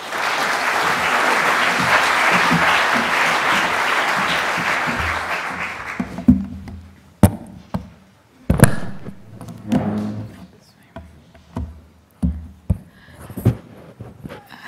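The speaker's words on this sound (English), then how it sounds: "Please give Maha Yahya a warm applause." An audience gives a warm round of applause welcoming speaker Maha Yahya at a panel event, dense clapping for about six seconds that then breaks off into a few scattered claps and thumps as the room settles.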